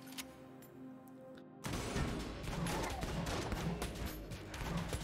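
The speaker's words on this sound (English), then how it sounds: "Pulse cannon." Pulse cannon firing in Enter the Gungeon, a dense, continuous barrage of rapid electronic blasts starting abruptly after a quieter stretch and staying loud to the end.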